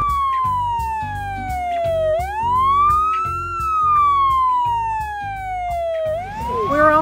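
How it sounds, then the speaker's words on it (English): A loud, close siren wails up and down in long sweeping tones, with a steady mechanical rumble underneath. "Oh wait, I think that's a fire truck."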